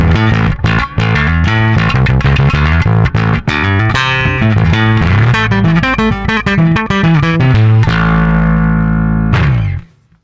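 Bass guitar played through a Source Audio programmable EQ pedal with heavy distortion, loud and continuous with rapid picked notes and sustained chords, ringing out to silence at the end.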